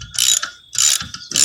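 A valve spring compressor being tightened down on a new engine block during valve spring work, giving three loud bursts of rapid metallic ratcheting clicks separated by brief pauses, with no talking.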